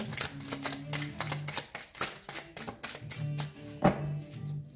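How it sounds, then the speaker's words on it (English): Close riffling and snapping of a deck of cards being shuffled in quick bursts, with a soft musical tone playing underneath. "Anything has got to be better than the sound of shuffling these cards, right?"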